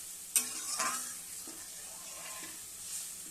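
Lentil dal is poured into a hot pan with a brief splash and sizzle, followed by soft, fading bubbling and a few faint clinks.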